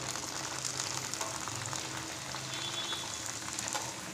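Broad beans (chikkudukaya) fry in hot oil in a kadai, giving a steady, dense sizzle that crackles evenly throughout at moderate closeness, with no voices.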